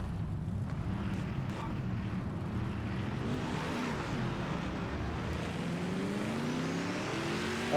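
A race car engine in the racing video game Project Motor Racing drones and shifts in pitch, rising gradually toward the end, with a wind-like hiss underneath.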